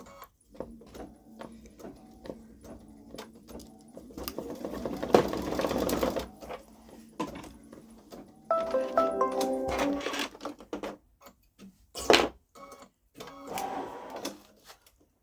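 A Babylock Solaris Vision embroidery machine stitches out a patch, its rapid mechanical needle chatter running steadily, with louder bursts and brief pauses between stitch runs, close and alone.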